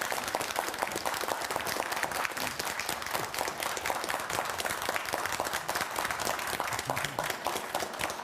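Sustained applause from a studio audience greeting a candidate's spouse at a televised KBS election debate for a Chuncheon National Assembly seat, dense and steady throughout without a break.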